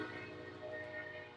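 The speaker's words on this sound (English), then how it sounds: "there's a train passing by my house" A passing train rumbles by outside a house, a faint but steady drone with tonal horn-like harmonics held through the short stretch, no talking.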